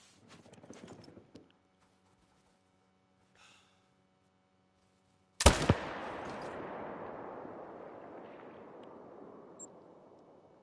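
A single sharp, loud gunshot fired from a rifle in a whitetail deer hunting game, followed by a long, fading rumble of echo. A few faint clicks and quiet shuffles come before it, and no one speaks.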